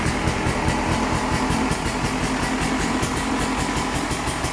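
A two-stroke motorcycle fitted with an FMF Gold Series exhaust idles close by, its crisp, rapid popping exhaust pulses forming a steady, loud rattling drone with slight flutter throughout.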